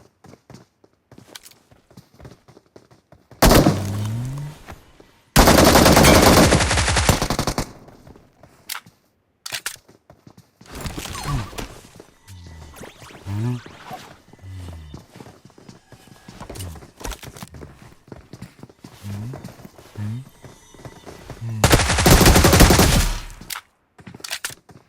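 Gunfire in the PUBG Mobile battle royale game during a fight against a full squad, with loud bursts at about 4 and 6 seconds and again near 22 seconds, separated by quieter stretches of scattered clicks and thuds.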